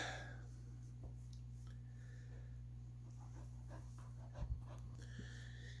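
A lovable, mischievous pet dog pants softly over a constant low hum, with a couple of sharp snorts near the end; fairly faint and close.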